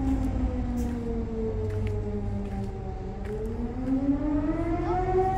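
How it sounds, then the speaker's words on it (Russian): A wailing air raid siren in Kharkiv rises and falls slowly, its long tone sweeping up and down steadily in the distance with no voices. "Под звуки воздушной сирены дети гуляют."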